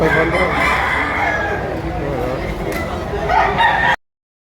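A rooster crows loudly and close by amid noisy outdoor clamor and people talking at a market in Padre Garcia, Batangas, then the sound cuts off abruptly.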